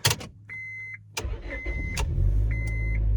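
A Honda Civic with a mid-size engine starting up and settling into a steady idle, with several electronic warning beeps sounding over the engine hum, heard close.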